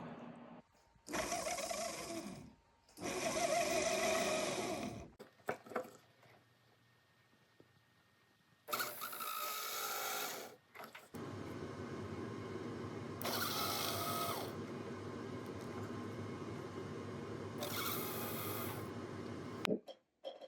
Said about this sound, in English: This is a heart burr. We're gonna be using this to cut the seats into the ring.